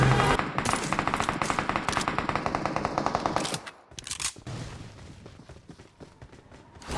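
Automatic gunfire from a PUBG Mobile match rattles in dense rapid bursts for several seconds, then drops to scattered, quieter shots and game noise.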